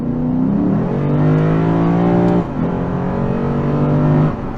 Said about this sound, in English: as I downshift, I'll give you guys one more beautiful note of this